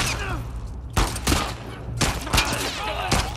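Gunfire in The Last of Us Part II bursts out in several loud, sharp volleys in quick succession, with short gaps of quieter rumble between the clustered shots.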